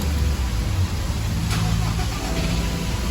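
A Toyota Revo Prerunner pickup engine runs after a push-button start, giving a steady low rumble close by. A brief click sounds about midway.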